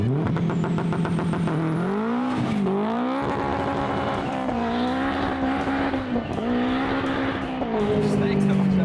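A 500 hp Honda Civic launching hard, with its engine revving loudly and tires squealing in long rising and falling tones, nearby and dominant, while people talk and shout over it.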